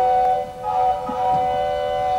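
A pipe organ imitating a train, holding a steady stack of whistle-like tones for about two seconds with slight swells in loudness and no voices.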